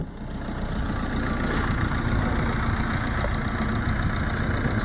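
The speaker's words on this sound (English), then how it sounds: "It's about as quiet as one of these engines gets" A Fiat Panda Cross with four-wheel drive idles quietly and evenly, a steady low engine hum with no revving, heard close and alone for the whole stretch.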